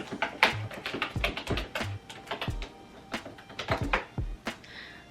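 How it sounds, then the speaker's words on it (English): Keystrokes on a computer keyboard patter out in irregular bursts, crisp close clicks with short pauses between runs and a couple of heavier, thumped keys, heard alone. "I decided to invest in a keyboard just so I could practice more of, you know, typing like this."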